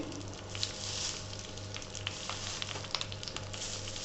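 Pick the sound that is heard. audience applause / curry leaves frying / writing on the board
curry leaves frying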